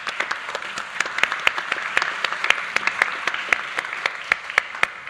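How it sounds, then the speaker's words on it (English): Audience at an investment conference panel claps, a moderate crowd applause with distinct sharp individual claps standing out over the steady patter. "please let's give him a round of applause for helping to make this happen"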